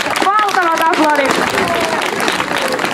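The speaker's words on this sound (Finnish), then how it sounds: "Valtavat aplodit ja huudot, tämä on kova suoritus." Crowd applause and shouting at the Anianpelto market firewood-splitting contest, broad clapping mixed with raised voices and babble, loud and continuous.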